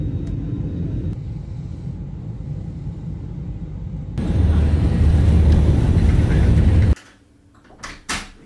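A passenger airliner flying from Lisbon to Oslo fills the cabin with a steady low roar that deepens and grows louder partway through, then drops away abruptly, leaving a quiet space with a few faint knocks.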